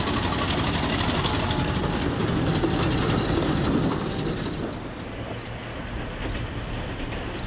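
Classic diesel locomotive on mainline duty, loud rumbling engine and rolling wheels passing close, then fading to a quieter steady rumble with faint birds.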